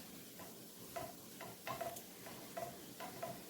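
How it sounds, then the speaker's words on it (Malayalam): A fish curry with chilli and grated coconut stirred in a pan, soft scraping strokes and faint clinks repeating every half second or so over a quiet low sizzle, no voices. "എന്നിട്ട് നന്നായിട്ടൊന്ന് ഇളക്കിയെടുക്കുക"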